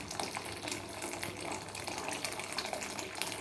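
Thickened milk pours into simmering rice pudding (payesh) in a pot, a steady close gushing and splashing of liquid that runs without a break, no one speaking.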